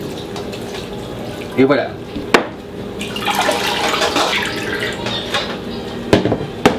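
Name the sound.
rinsing drained sauerkraut under cold running water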